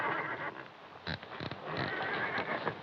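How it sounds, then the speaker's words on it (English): Horses whinny in the distance amid a busy, noisy background, with scattered shuffling and hoof-like knocks, in a 1944 Western film. "Wonder what's wrong with them horses."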